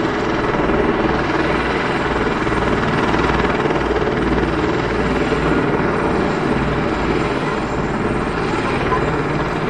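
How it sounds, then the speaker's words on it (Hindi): Loud, continuous rotor and turbine roar from a helicopter idling on the Vaishno Devi helipad, its engine kept running, steady and close for the whole stretch. "मतलब बंद नहीं हो रहा है हेलीकॉप्टर।"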